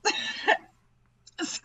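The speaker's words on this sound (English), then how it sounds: "I'm having like a coughing fit." Someone coughs in a fit of several harsh bursts, one group and then a pause before another, close to the microphone during a tabletop Dungeons game session.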